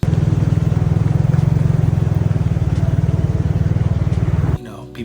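A motorbike engine on a street in Thailand, a loud close idling putter with a steady low rhythmic pulse, cutting off abruptly near the end.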